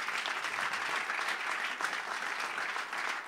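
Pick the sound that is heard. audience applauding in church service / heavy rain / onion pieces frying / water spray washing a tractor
audience applauding in church service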